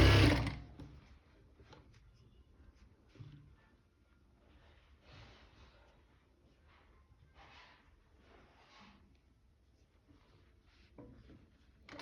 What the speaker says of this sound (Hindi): अब जो सीम लाइन लगानी है, मेक श्योर कि आप फैब्रिक को ही स्टिच करना है